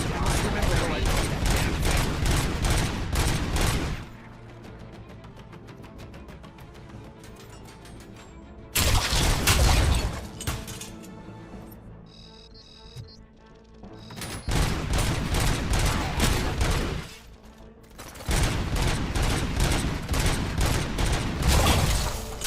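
Sustained automatic gunfire bursts from the 2023 game RoboCop: Rogue City, loud and dense, coming in several long volleys separated by quieter gaps of mechanical and ambient game sound.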